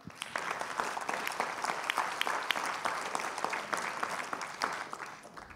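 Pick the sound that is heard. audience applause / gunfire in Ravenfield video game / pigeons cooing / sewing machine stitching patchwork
audience applause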